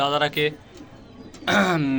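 Pigeons coo in two bursts close by, with soft background sounds and a quieter pause between the calls.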